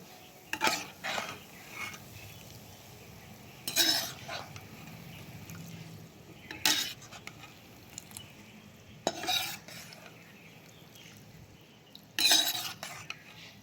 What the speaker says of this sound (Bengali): আর এইভাবে করে আমি সব পিঠেগুলো ভেজে নেবো